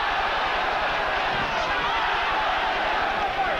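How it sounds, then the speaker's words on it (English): A boxing arena crowd roars for Francisco Damiani during his bout with Tyrell Biggs: a dense, steady wall of cheering and crowd noise that holds at an even level throughout. "The crowd cheering every Damiani."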